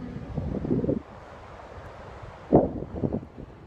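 Wind gusts buffet the microphone on a beach, coming in two loud rumbling bursts separated by a quieter stretch of low ambient noise.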